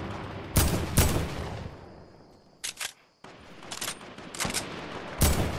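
Gunshots striking an enemy in a shooter video game: several sharp, loud reports come in short clusters separated by brief quiet gaps, with no talking.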